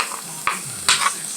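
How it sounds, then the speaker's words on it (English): A spoon stirs eggs cooking in a pan with a faint sizzle, giving a few soft scraping strokes close by. "Mama Pearl always told me to cook with a spoon when I'm doing eggs"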